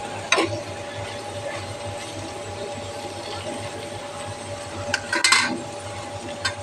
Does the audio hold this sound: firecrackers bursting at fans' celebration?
no